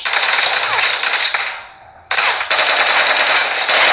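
Rapid automatic gunfire in a video game, loud and close, in dense bursts with a short lull before the firing resumes.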